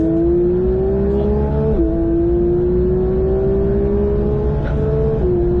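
A Porsche 911 992 GT3 accelerating hard on the Mettet race track, heard from inside as a loud, steady engine drone rising in pitch, with two quick gear changes.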